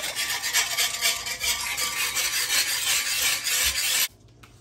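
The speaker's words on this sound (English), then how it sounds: "Just going to whisk this up real good." Whisk beating a sauce for a copycat Chinese takeout dish, a fast rhythmic scraping and rasping of wire against the bowl, close and loud, stopping suddenly near the end.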